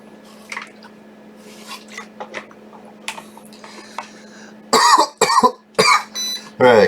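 Harsh, loud coughing fit after inhaling from a vaporizer: quiet small clicks and shuffles first, then a series of heavy close coughs in quick bursts.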